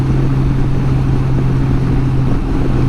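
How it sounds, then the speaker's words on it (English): Honda Goldwing motorcycle's flat-six engine humming steadily while riding on curvy roads, a smooth continuous low drone with no talk. "That sweet song she plays on that flat 6. I like to call it a hum."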